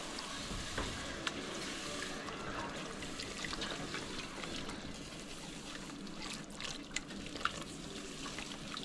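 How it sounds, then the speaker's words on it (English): A cup of chicken broth poured into a pan of cooking flour: a continuous trickling, sizzling liquid wash with small bubbling pops and a few utensil clicks, moderately close and unbroken, with no talking. "I'm going to add a cup of chicken broth."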